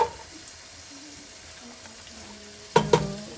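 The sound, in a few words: carrots added to frying pan for soup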